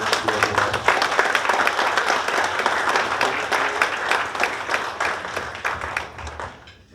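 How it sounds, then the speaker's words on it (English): Warm audience applause at an evening dedication event for a free Indian market, many hands clapping densely and steadily, then tapering off toward the close. "Give a warm applause for Barbara Gonzalez from San Ildefonso."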